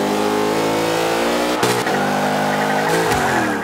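A drift-build car engine revs hard and steady at the first corner of Burmese Alps in Forza Motorsport 5, its pitch dipping and surging with two sharp shifts, with tires squealing as the car slides.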